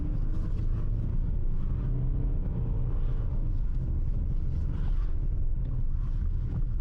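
Hyundai Palisade driving in sand mode on a winter road, a steady loud low engine and road roar with wind buffeting throughout, no voices.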